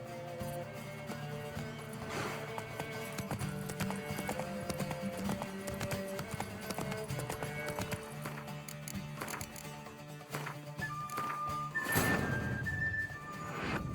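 Steady clip-clop of the horse Roach galloping in The Witcher 3: Wild Hunt, hoofbeats rapid and continuous under a game music score, with a brief whinny near the end.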